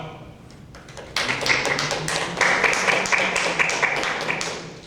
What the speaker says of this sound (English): Those who believe yes, please applaud.